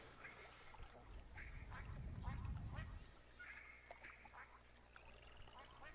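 Ducks in theHunter classic hunting game let out a run of nasal quacks at moderate distance, while a low rumble rises and fades beneath them and a voice speaks intermittently.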